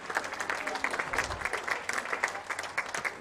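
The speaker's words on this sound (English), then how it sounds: "Plenty of applause and appreciation from the crowd gathered here in the finals hall in Munich" Crowd applause fills the finals hall at a Munich shooting World Cup event, steady clapping from a gathered audience sustained through the moment without a break.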